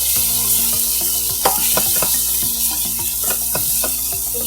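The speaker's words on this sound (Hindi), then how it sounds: "चलिए इसको अच्छे से मिक्स कर देते हैं।" Soya chaap masala frying with chilli and garam masala being stirred in a pan, a continuous sizzle broken by repeated scraping strokes of the spoon, close and clear with no talking.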